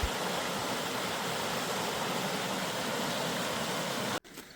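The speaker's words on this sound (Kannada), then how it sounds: "ಸಣ್ಣ ಹೊಳೆ. ಇದು ಒಂದು ಗುಡ್ಡದಿಂದ ಬರೋ ನೀರು." Small stream of hill water running through a coffee estate, a steady, dense wash of flowing water with no break until it cuts off abruptly near the end.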